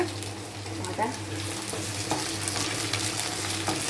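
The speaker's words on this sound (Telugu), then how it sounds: "ఆనియన్స్ గోల్డెన్ బ్రౌన్ కలర్ వచ్చాక అల్లం వెల్లుల్లి పేస్ట్ వేసుకోవాలన్నమాట" Ginger garlic paste fries and sizzles with golden brown onions in a pan, a steady close crackle broken by occasional stirring scrapes.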